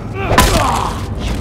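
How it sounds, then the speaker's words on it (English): A single gunshot fires in The Last of Us Remastered on PS4 Pro, a short dull thump under a person talking over it. "I'm just gonna shoot this guy."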